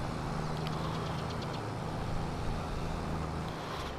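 A tractor engine drives in Farming Simulator 22, a steady mid-pitched engine hum with faint knocking tones running evenly at moderate loudness, with no talk.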